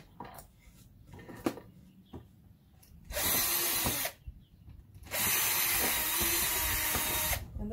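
A power drill bores holes through metal during a van build, whining in two sustained bursts of a second or more each, preceded by quieter clicks and handling noises.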